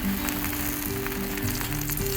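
Tortilla sizzling in hot oil on a pan for a birria pizza, a loud, dense, continuous frying hiss with a steady background tone beneath, no voices.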